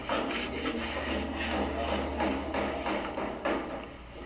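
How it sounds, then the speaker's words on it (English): Rhythmic scraping of sanding against the outside of a house wall, quick back-and-forth strokes repeating steadily, fairly quiet. "This is sanding the outside."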